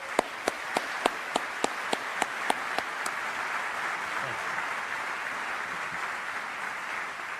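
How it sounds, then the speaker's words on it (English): Audience at an army retirement ceremony gives a round of applause: a broad, steady wash of many hands clapping, preceded by a series of evenly spaced sharp taps, continuing at moderate level from a distance. "I'd like to ask you to join me and give them a round of applause"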